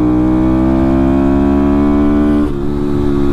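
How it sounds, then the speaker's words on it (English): Motorcycle engine with the exhaust baffle removed, idling and revving loudly at a steady high pitch, with a short dip in pitch near the end before it holds again. "Now, the two-step's pretty rowdy on this thing, too. I took the baffle out of the exhaust."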